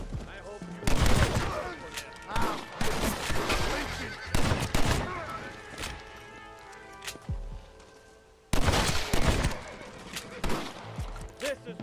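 Gunfire in the Red Dead Redemption video game, with repeated loud shots cracking in bursts across the scene, some close together, with a brief lull before a fresh volley; voices are heard between shots.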